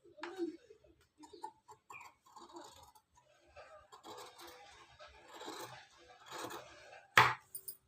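Scissors cut through blouse fabric for the front part, giving soft irregular snips and rustles, close and quiet, ending in one sharp loud snap.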